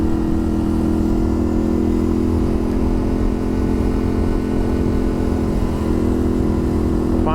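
A 2025 Yamaha Tenere 700 with upgraded Ktech springs cruises along a road, its engine droning at a steady loud hum with a faint whine near the end.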